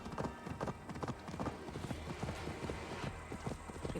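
Horse hooves clip-clop in a steady, quick rhythm in the video game Assassin's Creed Valhalla, with a faint murmur of voices in the background.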